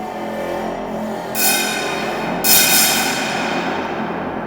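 Two strikes on the antenna rods of Tom Nunn's Crustacean metal sound sculpture, with deep, humming resonance that rings on and slowly fades.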